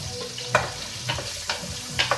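Strained beef pieces frying in a pan for beef pulao, with a steady background sizzle broken by a few sharp stirring clatters and spatters, close and moderately loud.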